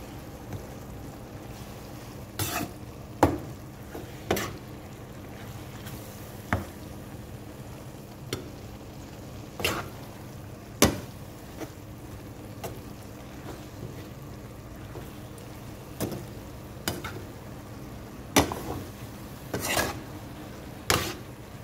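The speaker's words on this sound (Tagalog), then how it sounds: "haluin ulit natin hanggang sa luto na yung ating noodles" Pancit canton noodles stirred with vegetables in a pan, soft sizzling under irregular scraping and clinking of a utensil against the pan every second or two, close and fairly quiet.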